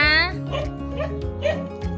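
A dog barks and yips several times in quick succession, close by, with a person's voice briefly at the start.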